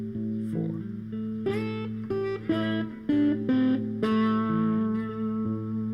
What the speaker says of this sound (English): I'll play the initial lick, and then I'll play the variation so you can hear the difference.